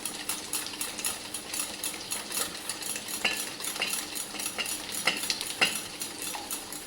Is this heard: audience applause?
no